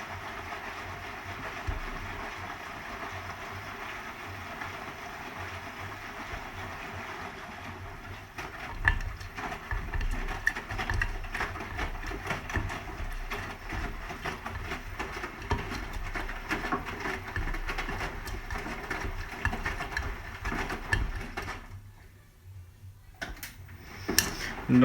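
A Hotpoint HE7L492 washing machine on a Cotton Standard 20 cycle with a dark load, its drum turning at 80 RPM during distribution: a steady rumbling whir with a soft, continuous patter of clothes, dipping briefly near the end.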